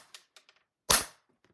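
A single sharp airsoft gun shot cracks loudly into a homemade target box, with a few faint taps and clicks before and after it.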